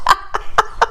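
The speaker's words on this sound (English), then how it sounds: "That noise is the dog. Drinking water." A dog laps water indoors in four quick, evenly spaced wet splashes within a second, close and fairly loud, with no talking over them.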